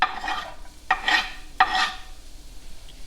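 Onions dropped into a hot frying pan give short bursts of sizzling, with two or three sharp hissing surges close by that fade between, and no talk.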